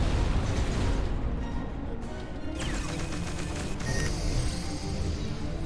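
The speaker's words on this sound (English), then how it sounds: "One of the enemy ships has been destroyed." An enemy spaceship blows up in Between the Stars, a loud rumbling blast with crackling bursts and debris layered over a constant roar of space-combat game sound, with no voices.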